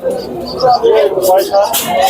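Pigeons coo at a busy pigeon market in Kolkata, soft repeated throaty calls up close amid crowd babble and nearby talk.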